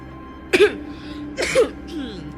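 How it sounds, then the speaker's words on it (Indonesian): Two harsh coughs about a second apart, close and fairly loud, from a climber trying to sleep in a cold tent before a summit push in Papua, with quiet background between them. "Kan batuk"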